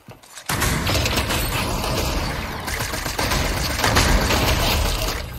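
Gunfire in a video game shootout, a rapid, loud barrage of shots with crashing, shattering impacts running nearly continuously after a brief quiet start, with no talk over it.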